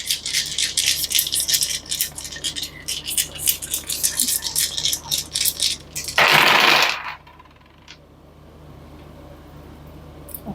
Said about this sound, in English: let's start your reading by taking a look at your dice